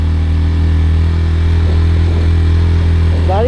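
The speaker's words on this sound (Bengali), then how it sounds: "এক গিয়ারে রেখে পাঁচ হাজার আরপিএম বা ছয় হাজার আরপিএমে আস্তে আস্তে করে উঠছি" A motorcycle engine held in first gear, climbing slowly toward five or six thousand rpm on a rough mountain road, makes a steady loud drone with a strong low hum throughout and a slight rise near the end.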